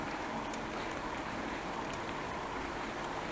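Steady rain pouring while cycling home along a road in a downpour, a constant dense hiss with low wind rumble throughout, close and fairly loud with no talk.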